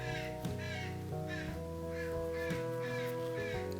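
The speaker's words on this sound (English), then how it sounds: "that crow is really going out there" A crow caws repeatedly outdoors, loud harsh calls in an uneven series of about five or six, over a steady background hum.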